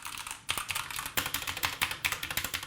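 Clicky typing on a Redragon K599 hot-swappable budget mechanical keyboard, a steady run of close, crisp keystrokes with a few heavier presses, no voices.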